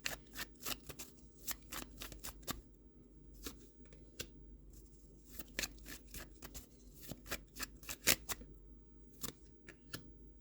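Tarot cards being shuffled in a steady run of crisp riffles and slaps, close and fairly quiet, with no talking.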